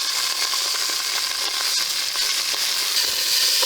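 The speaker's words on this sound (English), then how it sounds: "To finish this off, guys, hear the sizzle." Steak sizzles and fries in olive oil at the bottom of a camp oven, a close, loud, steady hiss with small crackles and pops throughout, no voices.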